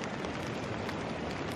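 Rain patters steadily on a tent during solo backpacking in the Scottish Highlands, a dense, even hiss of drops that stays constant and fairly soft throughout the brief stretch, with no voices.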